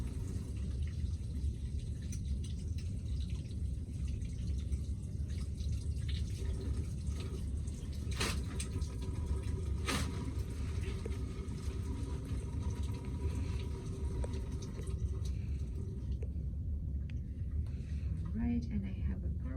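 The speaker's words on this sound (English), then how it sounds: "Okay, so you will wash your hands." Hands are washed under a running tap, with a steady splashing rush of water running throughout while a person talks over it.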